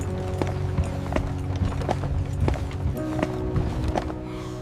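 Horse-drawn freight wagons with iron-rimmed wheels on a dirt road, hooves clopping in a steady walking rhythm with a grinding rumble of wheels beneath, fairly close and continuous.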